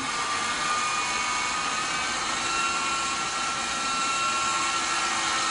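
A simulated helicopter in a flight simulator video game gives off a steady whining engine and rotor drone with a high whistle, loud and unbroken throughout with no talking.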